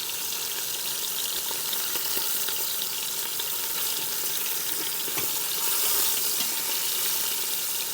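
Beef short ribs searing in an Instant Pot give a constant, hissing sizzle with faint scattered ticks and a slight swell near the end.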